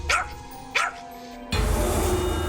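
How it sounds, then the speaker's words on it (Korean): Two sharp, close barks from a pet dog of Queen Elizabeth II in the palace, each a single loud yap, followed by a steady rushing background noise. "허공을 향해 짓고 있는 엘리자베스 2세의 애완개"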